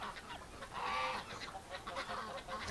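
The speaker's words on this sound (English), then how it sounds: "Ducks." Ducks out in the snow quack and honk in a loose, busy cluster of calls, one louder burst near the middle, heard fairly close with no talking.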